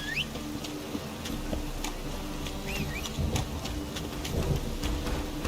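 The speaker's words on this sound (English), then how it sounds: "Must be mad running around in this rain." Rain falls steadily in The Witcher 3: Wild Hunt, a constant patter with scattered small drips and taps, low rumbling underneath and a few faint chirps.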